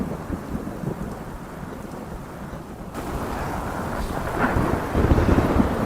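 Steady heavy rain with a thunderstorm, a dense wash of falling water and low rumbling thunder that swells louder toward the end, with no voices.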